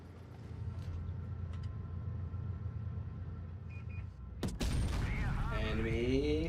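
Tanks trade fire in a video game battle: engine drone and faint mechanical clicks give way to a sudden loud cannon blast, followed by ringing, whining tones and continued heavy rumble.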